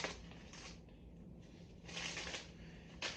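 Protective plastic film is ripped off the white wheels of a Rock Hopper mountain bike: close, crinkly tearing and rustling in several bursts over about three seconds, with no talk.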